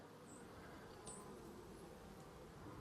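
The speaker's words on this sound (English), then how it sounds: "So this hive has got a lot of bees" A steady, faint hum of many bees buzzing together, continuous and low, with occasional higher whines as individual insects pass close.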